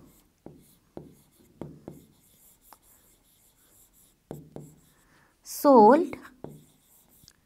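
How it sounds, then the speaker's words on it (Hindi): Pen writing on paper in short scratchy strokes during a math lesson, spaced bursts with a brief spoken word and a louder squeak in between, mostly quiet. "अब हम नेक्स्ट लिखेंगे"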